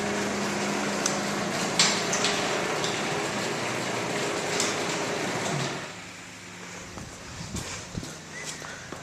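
A garage door rolls along its track with a continuous rumbling slide and light clatter, then stops with a few knocks and clunks, close by with no talking.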